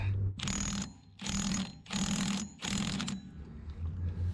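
Ratchet with a 1.5 inch socket backing off a Bobcat axle bolt, four close, crisp bursts of rapid pawl clicking in a steady back-and-forth rhythm, separated by short pauses, with a faint low hum underneath.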